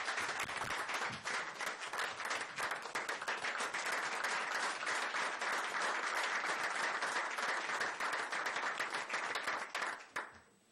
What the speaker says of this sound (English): if you'll help me give him a round of applause as being the Instructor of the Year